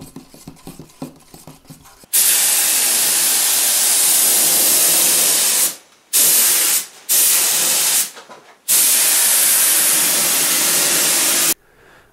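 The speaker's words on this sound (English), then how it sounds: "I'll just spray a very quick coat around the sides of this" Loud, steady hiss of a spray gun in several long bursts, with brief pauses between passes, close to the listener, spray painting the sides of an ES-335-style guitar body.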